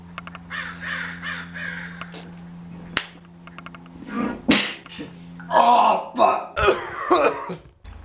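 A few harsh coughs and throat-clearing bursts come in uneven spurts, close and loud, with sharp raspy sounds mixed in.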